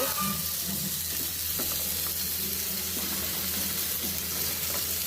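Sliced teasel gourd (kakrol) sizzles steadily in a hot pan, a dense, even frying hiss that fills the whole stretch with faint occasional stirring scrapes and no talking.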